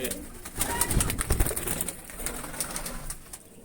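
Several pigeons coo in a loft where breeding pairs sit on eggs and chicks are hatching, soft murmuring calls overlapping against a busy background with brief louder low thumps, fairly close.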